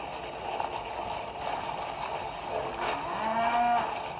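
A cow gives a single low, drawn-out moo near the end, rising out of a steady outdoor background hum.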